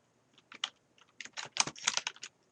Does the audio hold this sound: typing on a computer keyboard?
yes